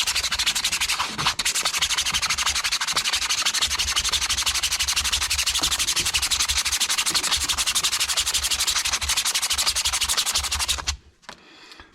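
Sandpaper rubbing on a motor part from a Ridgid air mover blower, a dense, continuous scratchy sanding sound that runs steadily at close range, then stops abruptly just before the end.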